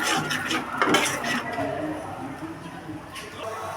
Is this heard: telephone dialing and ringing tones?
no